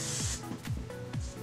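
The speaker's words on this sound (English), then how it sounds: "I really only spray this on my ends." Hairspray hisses from an aerosol can onto the ends of the hair in a few short, close bursts separated by brief pauses.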